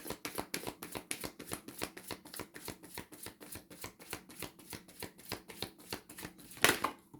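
Tarot cards are shuffled in a rapid, even stream of crisp riffling flicks, close and steady, ending with a sharper slap as a card is drawn.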